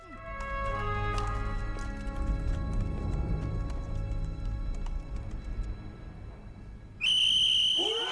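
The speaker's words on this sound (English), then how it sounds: "The whistle goes, the Soviets attack, they run forward." In a war-film battle scene before a Soviet attack, low sustained tones and scattered noises fill most of the stretch, then a sharp, shrill whistle blast cuts in loudly near the end and holds.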